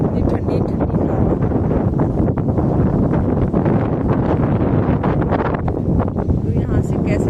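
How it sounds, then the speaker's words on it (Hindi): A cool wind blows over hilltop fields, a steady, loud rushing roar that buffets the microphone for the whole stretch with no break. "इतनी अच्छी हवा चल रही है ना यहाँ पे, देखो वाह, इतनी ठंडी ठंडी हवा।"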